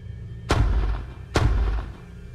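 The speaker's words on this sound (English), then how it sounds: "Alright, shot twice." Two loud gunshots fired in a video game, spaced under a second apart, each a sharp crack followed by a short booming tail, with no talking.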